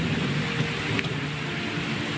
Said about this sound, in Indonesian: Terkendala dengan hujan teman-teman.